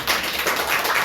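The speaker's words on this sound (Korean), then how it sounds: "박수 한번 주세요" Audience applause at a Korean cram school's talk on the high school credit system, honoring two students who placed top of their grade. Dense, loud clapping fills a short burst with no talk over it.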